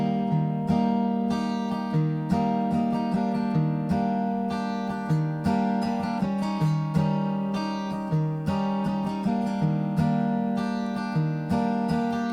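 An acoustic guitar slowly strums a chord pattern, alternating a bass note on the lower strings with strums across the top strings in a steady, even rhythm, close and moderately loud with no voices.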